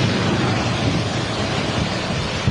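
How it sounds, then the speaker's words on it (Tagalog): Strong typhoon wind roars continuously with a broad, rushing texture, like gusts sweeping past near the microphone during a storm, in the Philippines. "Sumisipol ang hangin."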